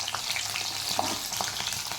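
Green chillies frying in hot oil in a pan, a dense, even sizzle and crackle with occasional louder pops, close and steady throughout this brief moment, with no voices.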